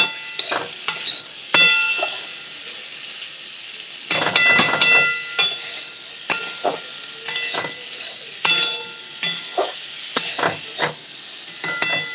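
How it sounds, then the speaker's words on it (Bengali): Potatoes fry in a pan at home while a spatula stirs them. Repeated scraping strokes and clatter run over a steady hiss of oil, close and fairly loud, with brief quiet gaps between stirring bursts. "ভালো করে আলুটা একটু লাল লাল করে ভেজে নিতে হবে"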